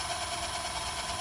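A round carbide cutter turns a camphor wood bowl on a lathe, giving a faint, steady whirring hiss with no breaks or changes.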